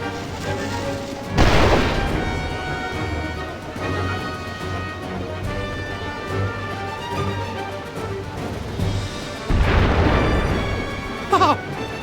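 Cannon fire from warships in the strategy game Final Fantasy War of Visions, two heavy booms several seconds apart over a steady game soundtrack, the second followed by a sharp crack.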